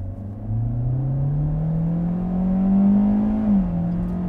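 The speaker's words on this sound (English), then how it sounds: "I like that about the CVT, but it is kind of loud, especially in the upper RPMs." A 2021 Hyundai Elantra with a CVT accelerating hard from a launch, its engine drone climbing steadily in pitch and then dipping once as the transmission shifts, loud and close with no talking.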